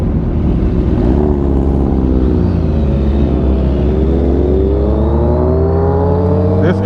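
A Suzuki Hayabusa 1600cc motorcycle engine revs loud and close, its pitch sweeping up and down in smooth climbs as the throttle rises and falls.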